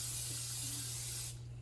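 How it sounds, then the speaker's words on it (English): Cooking spray is sprayed into a baking pan: one steady, close hiss lasting over a second that stops abruptly, with a low hum underneath. "Put a little cooking spray"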